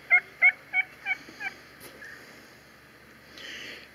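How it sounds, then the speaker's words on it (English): Eastern wild turkey gobbling: five loud, rapid gobble bursts at the start, fading in strength, followed by quieter outdoor ambience. "This here's the eastern wild turkey."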